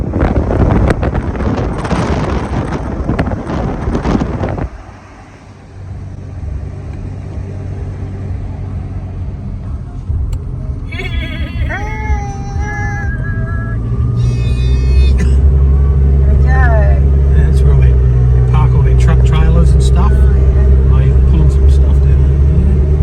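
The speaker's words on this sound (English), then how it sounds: "Listen to that exhaust note." A 2.8 diesel engine's exhaust and intake noise while driving up a mountain road: a deep, steady, loud rumble that builds in strength, with wind buffeting and a short burst of high chirping sounds partway through; people talk over the early part.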